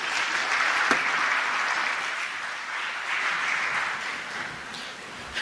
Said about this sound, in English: Please give a round of applause to the panel.